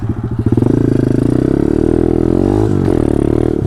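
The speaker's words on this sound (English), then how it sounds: "I hit a pretty big log." Pit bike on a woodland trail hitting a big log: loud, steady engine drone with a brief jolt and pitch dip partway through, then the motor keeps running at close range.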